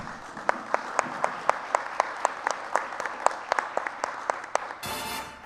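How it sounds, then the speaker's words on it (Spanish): Applause from a live audience with sharp, regular claps, a steady rhythmic beat suggesting a small group clapping in time, ending abruptly. "Dense un aplauso."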